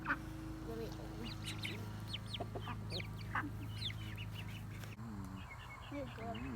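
Chickens and ducks cluck and quack nearby, with a rooster among them and a steady low hum underneath.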